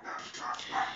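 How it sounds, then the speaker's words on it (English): Pet dogs bark in an excited run of quick overlapping yaps and barks indoors, moderately loud and lasting about a second. "I apologize for my dogs. They go crazy all the time."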